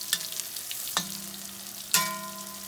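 Mushrooms frying in butter in a pan beside broccoli, with a steady soft sizzle broken by three sharp clattering stirs or scrapes, close and fairly quiet.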